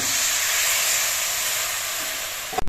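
A pan of sugar syrup, made from powdered sugar and water, boils steadily with a loud, even hiss and sizzle that holds throughout, then cuts off with a couple of sharp clunks at the end.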